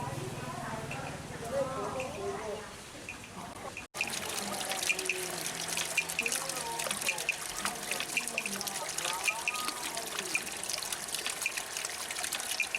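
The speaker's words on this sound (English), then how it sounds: "There's a sprinkler system all along here. A mister, I guess." A misting sprinkler system sprays steadily along a cave passage, a constant hiss with light trickling. It runs on without a break, with a brief cut partway through.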